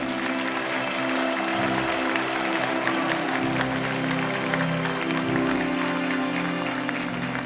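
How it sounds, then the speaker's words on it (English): An audience at the 2023 HWPL Global Peace Leaders' Conference applauds award recipients with steady, sustained clapping that fills the hall, with faint tonal sound beneath it. "Let's give them another big warm round of applause"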